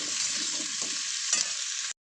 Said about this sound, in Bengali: সবজিগুলো একটু কড়াই নেড়ে নিয়েছি